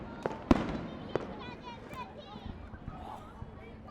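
Fireworks bursting at night: a few sharp pops and bangs in the first second and a half, with fainter crackles later, amid crowd noise and children's voices in the background.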